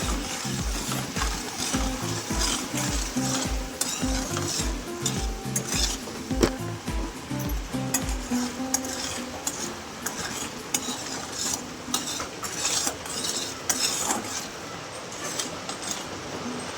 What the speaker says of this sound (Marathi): असं हलवत राहायचं जेणेकरून साखर विरघळली जाते